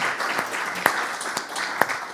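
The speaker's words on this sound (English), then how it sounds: "Another round of applause for Marius Agis and our special guests." Audience applause at a women's football event in Athens, a thin scattering of claps with a few sharp, close hand claps standing out over a soft background patter.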